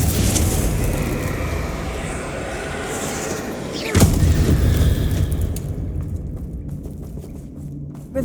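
The Confringo blasting spell goes off in Hogwarts Legacy as a single loud, sharp burst about halfway through, over a constant bed of game ambience that fades at the end.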